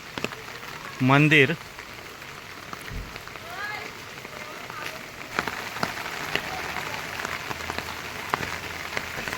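Heavy storm rain falls in a village by a temple, a continuous broadband hiss of drops on surfaces, while a voice speaks briefly and a short loud tonal burst stands out near the start.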